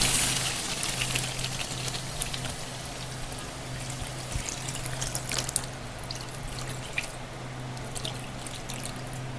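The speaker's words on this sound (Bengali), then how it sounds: "এখন আমি ঝোলের জন্য জল দিয়ে দিব" Water is poured into mutton that is frying in oil to make a gravy, a steady wet hissing and trickling with a low hum underneath, no voices.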